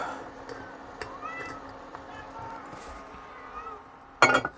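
A kitten meows indoors in a few close, drawn-out calls over a quiet room, with a brief sharp clink near the end.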